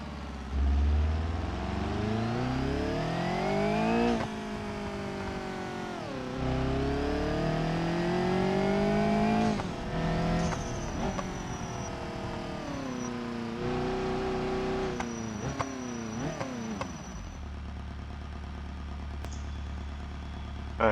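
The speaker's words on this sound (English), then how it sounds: "Let's try to hear the turbo. I'm going to engage second gear here." A turbocharged car engine in BeamNG.drive revs repeatedly in second gear, rising and falling through several pulls, with turbo whistle and blow-off chirps near the end before settling to a low idle.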